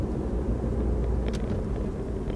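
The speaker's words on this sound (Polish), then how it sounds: "Ok, samochód pracuje na gazie." Car engine idling on LPG, a steady low rumbling hum close by and constant in level, with a couple of faint brief clicks over it.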